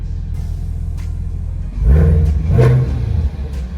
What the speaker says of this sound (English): You hear the supercharger, you feel it, you know, it whines.